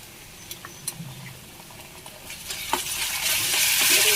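Ginger garlic paste sizzles in a pan with browned onion while being stirred, starting with a few soft scrapes and clicks and building into a loud, steady frying hiss.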